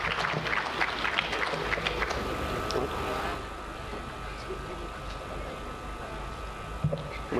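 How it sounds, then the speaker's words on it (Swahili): Audience applause for a speaker at the opening of the 46th Sabasaba international trade fair, a few seconds of clapping that fades into a quieter hall with a steady hum. "Naomba tumpigie makofi."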